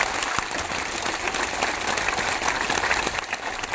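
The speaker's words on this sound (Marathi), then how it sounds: "राजू भैयासाठी जोरात टाळ्या वाजवायच्या" A crowd claps loudly for Raju bhaiya, giving a dense, sustained burst of applause that stays close and even throughout, with a faint trace of voices underneath.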